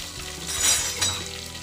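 Garlic and curry leaves frying in hot oil in a pan for a palak sambar, a loud, close crackling sizzle that swells briefly with a stir.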